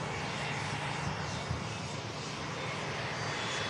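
A Ryanair jet lines up on the runway at Manchester Airport, giving a steady, broadband engine roar heard from a distance, constant and unbroken with no talking.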